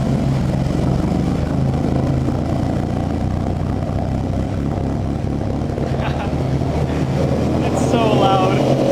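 Aftermarket Blitz Nur Spec catback exhaust on a car, giving a steady, loud, deep drone throughout, with a voice talking faintly underneath.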